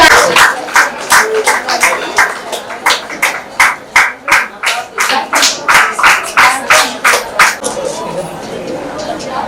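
A group clapping together in congratulation, loud rhythmic applause with steady repeated claps that fade toward the end, a murmur of voices underneath.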